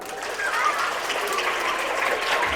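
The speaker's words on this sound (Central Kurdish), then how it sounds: "پیرۆزە چەپڵە" Applause at a school morning assembly of a private school, a dense, steady crackle of clapping hands lasting the whole short moment.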